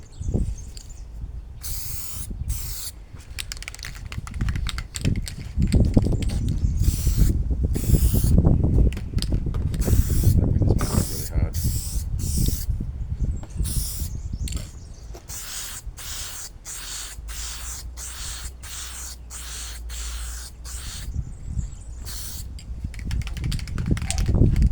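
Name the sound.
spray can applying clear coat to 3D print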